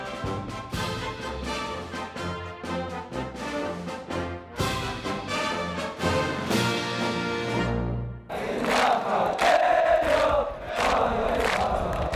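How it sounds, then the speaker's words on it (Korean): Marine Corps recruits on a parade ground break into loud, rowdy cheering and clapping during the last few seconds, after a long stretch of steady tonal, music-like sound. "연병장 한 편이 훈병들의 열기와 박수 소리로 떠들썩하다."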